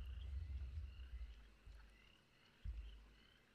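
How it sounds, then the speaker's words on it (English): Frogs croaking at night in a meditation soundscape, a dense low chorus with a few stronger swells, steady and moderately near with no voices. "The frogs are very loud."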